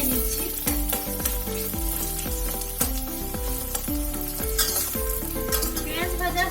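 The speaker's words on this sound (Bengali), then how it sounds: "পেঁয়াজটা আমি ভালো করে ভেজে নিচ্ছি।" Chopped onions frying in a pan while being stirred, a steady sizzle running throughout beneath loud rhythmic background music with bass notes.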